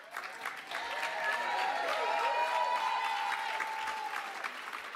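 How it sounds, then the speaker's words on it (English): A university hall audience applauds during a speech, the clapping building into a sustained, dense wash that holds steady for several seconds, with a few cheers mixed in and no talking over it. "And you should clap for that."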